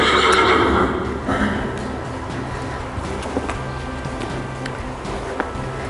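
A horse in a ring during natural horsemanship groundwork whinnies loudly near the start, then hooves and faint movement continue at a steady low level.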